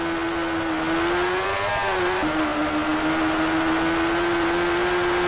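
A Suzuki superbike engine in the PS2 racing game TT Superbikes, a loud continuous buzzing whine with a brief rise and dip in pitch before it settles at a steady drone, heard alone.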